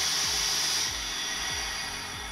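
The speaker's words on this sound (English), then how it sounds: "you'll hear a hissing coming out of the barrel like this" Compressed air hisses steadily out of the barrel of a JSAR Hawk air rifle while it is being filled, a loud continuous rush with faint periodic low thumps beneath it.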